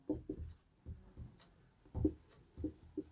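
Writing out the Pythagoras theorem during a class 10 maths lesson produces faint, quick scratching strokes in short bursts, close by and quiet.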